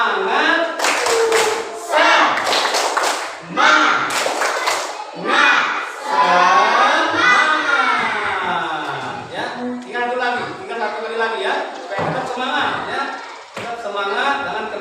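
Children clap in quick rhythmic bursts while chanting together in a classroom tepuk semangat routine, loud and close, with group voices shouting between clap patterns.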